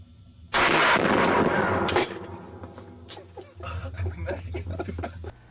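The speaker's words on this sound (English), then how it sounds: "these people are using one of the largest rifle calibers, like, ever." A very loud, booming large-caliber rifle shot with a heavy blast, a second roar soon after, then lower rumbling and scattered clatter fading out.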